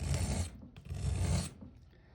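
Broadhead arrow blade sharpened with a file, two close, distinct rasping strokes, each about half a second long, separated by a short pause.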